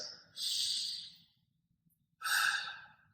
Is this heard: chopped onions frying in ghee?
no